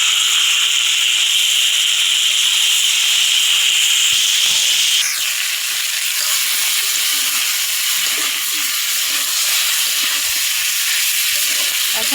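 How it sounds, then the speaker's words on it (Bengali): Onions and elephant apple fry in a pan for a homemade elephant apple pickle, giving a loud, continuous close-up sizzle that shifts slightly in tone partway through and carries on steadily. "আর এখানে আমি পেঁয়াজটা ভাইজে নিচ্ছি।"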